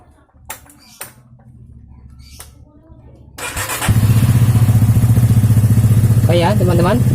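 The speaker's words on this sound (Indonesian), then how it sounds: "motornya sudah menyala" After a few sharp clicks and a low hum, a Honda Megapro motorcycle fitted with a replacement ignition key switch starts with a thump and runs at a loud, steady idle close by, with voices underneath.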